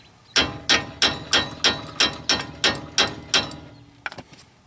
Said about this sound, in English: Now I just need to get a hammer and try to knock this loose right here.